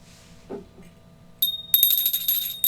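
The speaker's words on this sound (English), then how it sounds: "It's a bell from one of our trips to Myrtle Beach." A hand bell brought back from Myrtle Beach rings as a sound effect, a bright metallic jingle that starts abruptly and shimmers for about a second after a faint soft knock.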